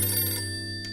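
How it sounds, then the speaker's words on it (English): A telephone rings in the video game For the People, a bright electronic ring heard clearly and alone over a low steady hum. "Oh, phone's ringing."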